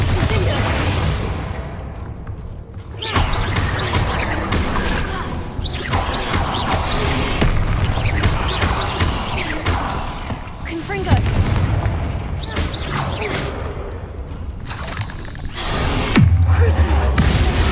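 Bombarda spell blasts in Hogwarts Legacy ring out as repeated loud booms and crashes amid game music and effects, with a voice speaking over parts of the action.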